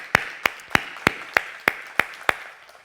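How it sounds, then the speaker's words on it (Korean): Clapping during a Korean church Sunday service: eight sharp, evenly spaced claps at a steady, brisk rhythm, close and distinct, with no talk over them. "한번 큰 박수를 보내주시면 좋겠습니다."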